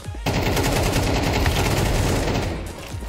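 Rapid, continuous gunfire in a video game hammers away close and loud for nearly the whole stretch, easing slightly at the end.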